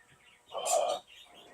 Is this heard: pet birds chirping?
yes